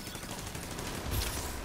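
Rapid automatic gunfire in The Division 2 video game, a dense continuous burst of shots with a louder thump near the end, filling the mix.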